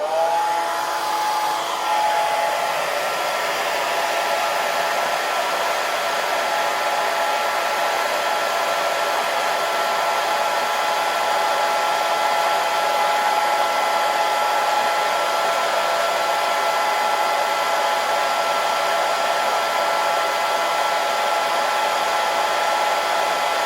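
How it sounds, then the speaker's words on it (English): A hair dryer blows steadily onto wet watercolor paint, a loud, continuous close-up whooshing roar that starts with a brief shift in pitch, then holds unbroken for over twenty seconds. "dry it with my hair dryer"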